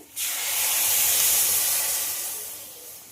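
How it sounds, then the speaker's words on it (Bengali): Water poured into a hot frying pan of fried egg and potato hits with a sudden loud hiss of steam that swells, then slowly fades as the sizzling settles. "এবার এতে দিয়ে দেব জল।"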